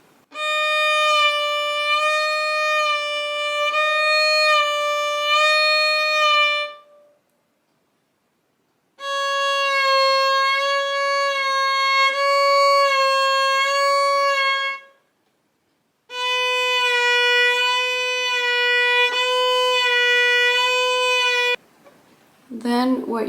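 A violin is bowed on two alternating notes for vibrato practice, played as three long sustained passages separated by silent pauses, clear and close.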